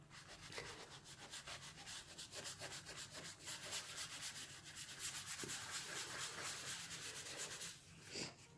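A paper towel rubs over a colored pencil drawing to blend the colors, making a steady, close scratchy swishing in quick, rhythmic back-and-forth strokes that continue throughout.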